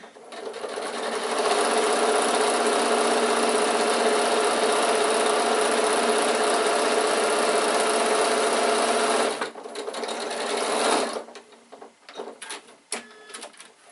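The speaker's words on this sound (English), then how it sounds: "I'm going to sew all the way down." A sewing machine runs steadily for about nine seconds stitching a long seam on an insulated picnic bag, then slows and stops, followed by a few short bursts, handling noises and clicks.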